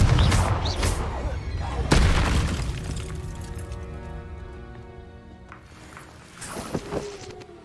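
The Confringo blasting spell goes off in Hogwarts Legacy with a sharp explosive boom, then a second blast, followed by a ringing, shimmering magical decay and scattered debris sounds. No talking can be heard.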